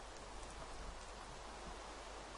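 Steady rain in a Minecraft graveyard map, an even hiss of falling drops across the whole clip with no pauses.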